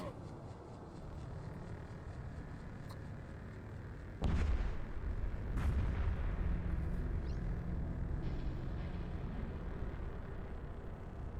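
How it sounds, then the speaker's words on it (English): A Typhoon battleship fires large missiles in Eve Echoes, with a sudden heavy boom partway through and a rumbling launch roar continuing after it, loud over a steady low game ambience; talk is faint underneath. "They like to apply damage with the large missiles"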